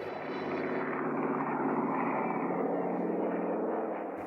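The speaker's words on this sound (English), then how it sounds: "the Ki-43 Ayabusha planes take off" Ki-43 Hayabusa propeller fighter planes taking off, a steady loud drone of aircraft engines holding throughout, broad and continuous with no voices.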